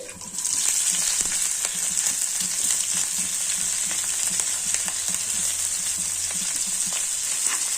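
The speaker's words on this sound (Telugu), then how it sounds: "పోపు వేసుకోవాలండి" Mustard seeds and cumin tempering in hot oil, giving a loud, continuous close-up sizzle that starts abruptly and holds steady throughout, with faint stirring beneath.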